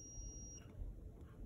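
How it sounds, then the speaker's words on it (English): A multimeter continuity tester beeps while checking connections on an electronics prototyping board, a single faint high tone that holds for about half a second and then stops. "it's connected, so it beeps"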